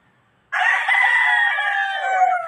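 A Raptor Sweater gamefowl rooster lets out one long, loud crow close by after a moment of near silence, holding a strained, wavering note for about two seconds.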